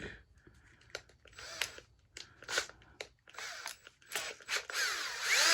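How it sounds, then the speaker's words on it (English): A power drill works on a rusty, seized Zippo lighter, short whirring bursts and grinding scrapes starting and stopping irregularly, close up and fairly quiet, building to a longer continuous run at the end. "This one's probably going to need the drill. So let's turn to the drill real quick."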